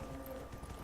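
In Dragon Age Inquisition, a summoned horse's hooves clip-clop in a quiet, steady rhythm under a low game ambience, faint and somewhat distant.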